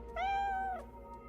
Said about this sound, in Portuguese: Quando o mercenário ia morrer, aparece um gato.